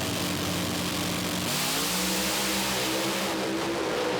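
A drag racing car's engine roars loudly at the line, its pitch climbing and holding as the revs build toward launch RPM, with a sharp jump in intensity midway.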